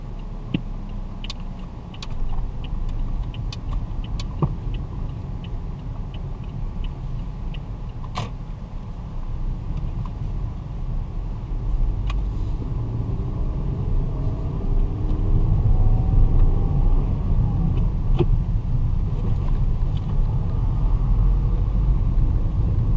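Manual car driving along with steady engine rumble and road noise, occasional clicks and creaks from the gear shifter as the driver changes gears; continuous, moderately loud, no talking.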